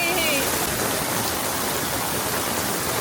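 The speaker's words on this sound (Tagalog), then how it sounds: "Grabe ang ulan." Heavy rain pours steadily at night in Vigan's Calle Crisologo, a dense, continuous hiss close by, with a brief voice at the very start.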